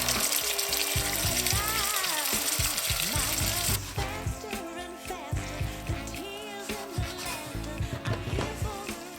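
Sliced garlic and homemade tomato sauce sizzle and spit in oil in a pan, a steady crackling fry that stays loud and close throughout, with bubbling bursts and no one speaking.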